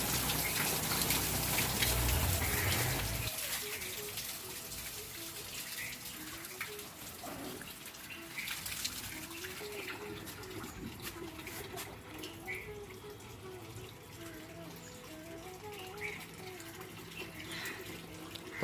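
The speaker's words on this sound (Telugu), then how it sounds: "అయ్యో, ఇంకా ఫౌంటైన్ లాగా కొట్టేస్తుందిగా." Water gushes like a fountain from a pipe whose head has come off, a loud rushing burst at first that settles into a steady spray with faint background sounds.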